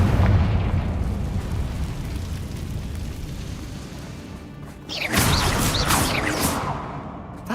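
Explosion from the Confringo fire spell in the Hogwarts Legacy video game: a sustained rumbling boom, then a bright crackling burst with scattered debris sounds near the end.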